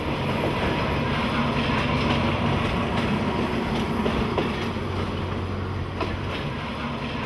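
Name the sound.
passenger train riding on rails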